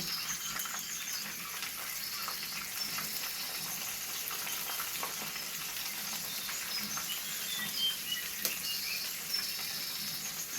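Continuous hissing sizzle of green onions frying in hot oil in a pan, with small crackles and pops throughout, no one speaking.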